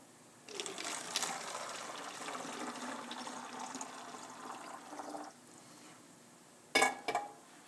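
Hot water pours into a bottle in a room, a steady gushing fill lasting about five seconds, close and moderately loud, followed by a couple of brief clinks near the end.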